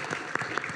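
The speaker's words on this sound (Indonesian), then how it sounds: "Kita tepuk tangan" Brief burst of clapping from a group, a dense patter of hands lasting under a second.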